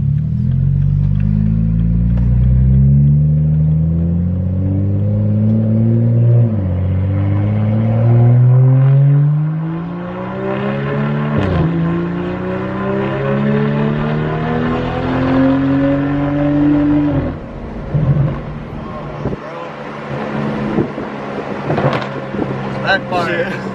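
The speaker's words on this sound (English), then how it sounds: "Backfire. Sounds so damn good." BMW 335i with an N54 engine and full bolt-on upgrades, revving hard through paddle-shifted gears with rising engine sweeps, sharp cracks and pops on each lift-off, then a burbling idle, heard from inside the car with people talking.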